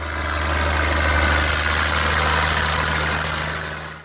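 A Minneapolis-Moline G1000 Vista tractor engine idles with a steady, loud low rumble close by, running evenly throughout before easing off at the very end.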